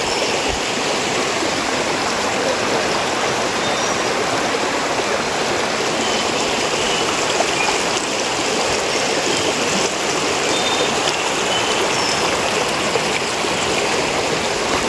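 A stream flows steadily in the countryside of Bulacan, its even, rushing wash of water continuous and unbroken at moderate volume throughout.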